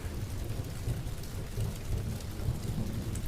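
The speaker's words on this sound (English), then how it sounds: "The rain came back like it never left." Rain and thunder ambience in a cyberpunk sleep story, a dense steady wash of rainfall over low rolling thunder rumbles, quiet and unbroken with no voices.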